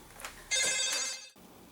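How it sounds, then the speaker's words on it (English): A phone rings with a single bright electronic trill that cuts off abruptly in a quiet room, near and fairly loud. "And now I gotta answer my phone."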